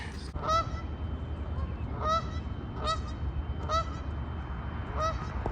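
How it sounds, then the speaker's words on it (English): A wild goose honks repeatedly outdoors near a parking lot, about six clear, harsh calls spaced roughly a second apart over a low background rumble, with no talking. "A wild goose."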